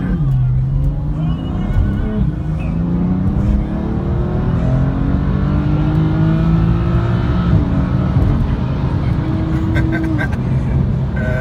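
A BMW i8 races a Maserati and a Mercedes E43 on the road, with engines droning loudly as they accelerate and the pitch climbing steadily, heard from inside a moving car.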